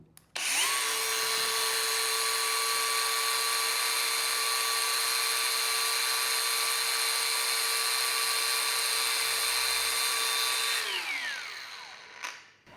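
A Dongcheng DCSM08-100 cordless angle grinder with an outer-rotor motor spins at full speed, a steady high-pitched whine held for about ten seconds before winding down, loud and close with no talk.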